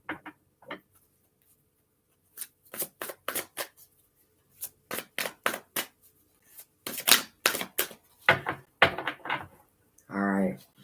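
Tarot cards given several firm shuffles, a run of crisp, rapid riffling bursts in uneven clusters, near and fairly loud, with short pauses between rounds of shuffling.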